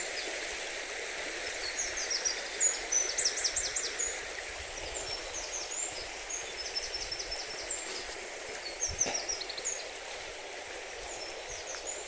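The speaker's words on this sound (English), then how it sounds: "The birds are singing, the trees, they're all getting on with their lives." Birds chirp and trill repeatedly in short phrases outdoors among trees at Bannockburn, Stirling, Scotland, moderately distant over a steady background hiss like flowing water or wind.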